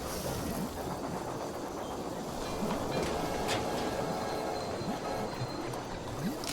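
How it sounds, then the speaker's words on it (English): In the railway management game Railway Empire, a train rumbles into a station with a low, continuous rolling noise and faint squeals, steady and moderately quiet. "So train has reached the station Portland."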